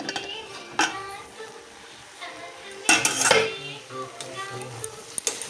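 Metal utensils clink and scrape against a pot while a bottle gourd vegetable dish cooks. The clatter is scattered and close, with a louder burst of knocks midway over a faint background.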